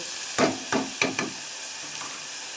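Tomatoes frying in a little oil in a home kitchen pan, heard as a quiet steady sizzle with four or five short stirring scrapes and clatters near the start, no talking.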